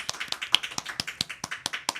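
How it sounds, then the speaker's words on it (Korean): A short stretch of steady hand clapping at a church presentation, with sharp claps arriving at a quick, even rhythm and no voices. "귀한 시간 사례 발표해 주신 우리 원영숙 전사님께 다시 한번 감사의 박수 주십시오."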